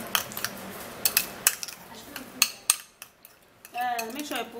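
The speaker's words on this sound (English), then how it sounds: "And then you mix it all up really good." A spoon clinks and scrapes against a container while aloe vera skin toner is mixed, giving a series of sharp, close taps and rattles with brief pauses between them, followed by a short stretch of softer, steady scraping.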